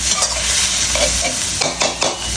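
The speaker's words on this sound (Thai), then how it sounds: "ผัดไฟแรงเลยนะครับผม" Loud, close sizzling over high heat, with quick scraping strokes of a spatula tossing pork in a pan.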